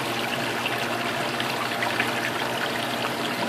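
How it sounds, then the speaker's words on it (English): Fresh water pours steadily to fill up part of an ASM G4XX setup during cleaning: a constant, close rushing splash with no pauses or voices. "I will go ahead and fill this up with some fresh water."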